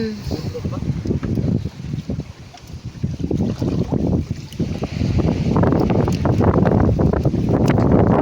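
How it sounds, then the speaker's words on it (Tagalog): Strong wind roars and buffets the microphone throughout, gusting in uneven bursts with a steady rushing hiss underneath. "Sobrang lakas ng hangin."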